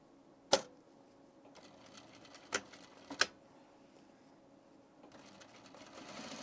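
A sewing machine stitches a zipper onto the fly facing of men's trousers without a zipper foot, in short bursts of rapid mechanical clatter separated by pauses, with a few sharp clicks, close and fairly quiet.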